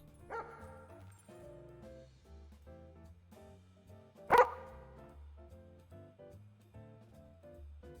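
A police K9 dog in a roleplay video game gives one sharp, loud bark over steady background music and game sounds, with a short yip earlier.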